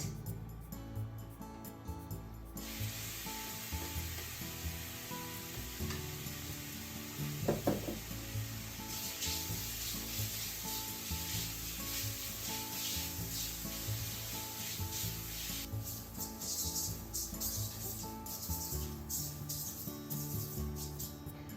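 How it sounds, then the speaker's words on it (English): Steady sizzling and scraping as shirataki noodles cook without oil in a frying pan over medium-high heat, continuous and close, with a low hum underneath throughout. "Heat a frying pan over medium-high heat and cook the shirataki noodles."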